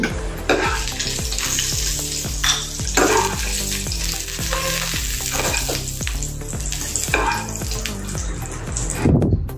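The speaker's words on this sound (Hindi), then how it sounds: "इसको थोड़ा सा भून लेंगे घी में" Melon seeds roast in hot ghee in a pan, giving a steady loud sizzle and frying crackle, with repeated scraping stir strokes and a brief clatter near the end, and no voices.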